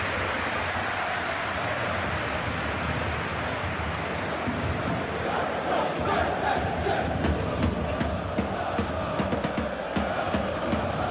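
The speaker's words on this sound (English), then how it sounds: "Maybe the crowd will stay a little quieter next time" A stadium crowd roars steadily in the PES 21 football game during a PSG vs Monaco Champions League match, a dense continuous wash of cheering and chanting that swells slightly later on, with no voices standing out.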